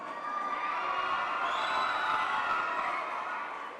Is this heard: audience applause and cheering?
yes